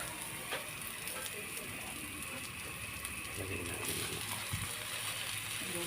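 Steady, low-level sizzling of chicken sautéing in a pan, continuous crackle with occasional faint clinks, no talking.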